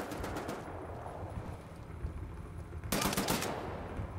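Gunfire in the video game Wolfenstein: The New Order: rapid automatic bursts, one at the start and another louder one after a pause, over a constant rumbling game background.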